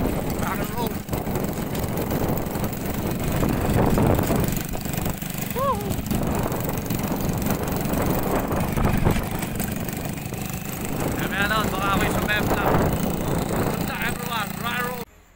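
A motorcycle engine drones steadily while riding along a road during a typhoon, a close continuous mid-low hum throughout, with someone talking over it and bursts of wind or rattling.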